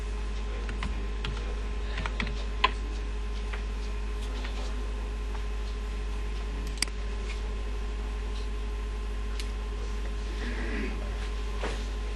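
Typing on a computer keyboard, scattered light key clicks over a steady low electrical hum, close and fairly quiet.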